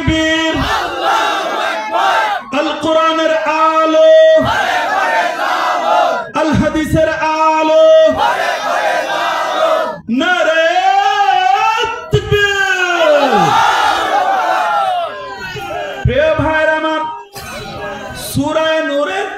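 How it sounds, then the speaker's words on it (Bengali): A large crowd at a religious sermon chants Takbir slogans in loud, rhythmic call-and-response bursts, voices yelling together in unison with the leader's calls between them. "এই শক্তিশালী লোক যারা আজকে এখানে স্লোগান দিলেন"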